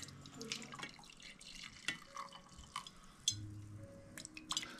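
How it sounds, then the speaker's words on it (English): Water poured from a kettle over coffee grounds in a pour-over brewer, a soft steady trickle with faint drips and light clinks, quiet and close. "Okay, helps got it. Pour it."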